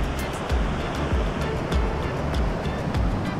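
Surf rolls in steadily at Playa Grande, a wide beach in Costa Rica, a constant loud wash of breaking waves with some wind rumble and no talk.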